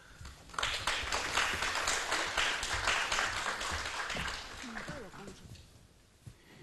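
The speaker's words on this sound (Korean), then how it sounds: "큰 박수로 청해 주시기 바라겠습니다" An audience applauds steadily for several seconds at a conference presentation, a dense patter of clapping that tapers off, followed by a few faint spoken words.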